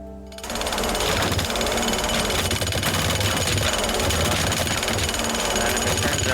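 A jackhammer in the video game Teardown starts up after a brief quiet moment, then pounds in a rapid, loud, continuous mechanical rattle that holds steady to the end.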